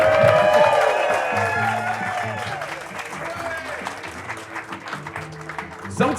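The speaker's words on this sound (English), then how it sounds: "There's an applause sign right now." Loud applause and cheering from a live show audience fill the room, then fade to scattered claps while talk continues over them.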